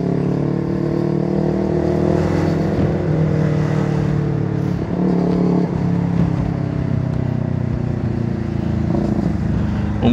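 Motorcycle engine revving hard while racing another rider on a road, a loud sustained drone with rising and falling pitch and a brief dip midway, constant throughout with no talk.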